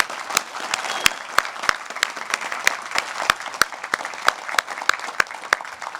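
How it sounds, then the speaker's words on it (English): A university commencement ceremony crowd claps steadily, a dense wash of many hands with a few sharp individual claps popping out above it, sustained and fairly loud throughout with no talk. "Can we please give a big round of applause to the people who have supported our journey in getting here today?"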